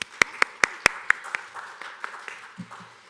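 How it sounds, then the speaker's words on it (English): Audience clapping at a college honors ceremony, a handful of sharp, distinct claps at first that soften and thin out into scattered fading claps, with a faint voice near the end. "And let's give her a round of applause."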